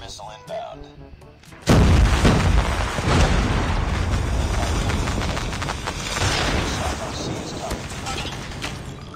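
Shotgun fire in a multiplayer shooter during a one-versus-five fight, a loud blast bursting in after a quiet opening and followed by a dense, continuous wash of gunfire and explosions, with voices talking over the action.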